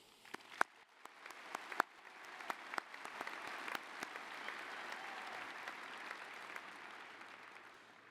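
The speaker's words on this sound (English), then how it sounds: "Let's give them a round of applause" Graduation audience at Staley High School applauding, a broad wash of clapping swelling and holding steady, with a few sharp nearby claps standing out at the start, heard from some distance.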